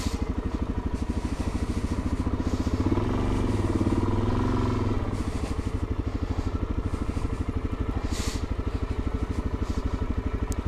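Motorcycle engine running steadily on sandy ground, a close, loud, even putter with a brief surge in throttle partway through and no talk.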